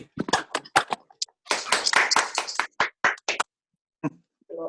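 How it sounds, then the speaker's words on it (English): A few people clapping after a talk by Holly Birtles, sparse, sharp individual claps in an uneven rhythm, close by, fading out before a brief faint sound at the end. "If everyone takes their mics off and gives Holly a round of applause"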